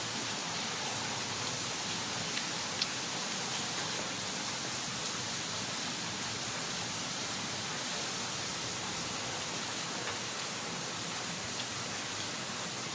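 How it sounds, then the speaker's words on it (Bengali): Steady rain falling on a rainy day, a dense, unbroken hiss that stays even and fairly soft throughout with no voices. "বৃষ্টির দিন, পরিবেশ ঠান্ডা"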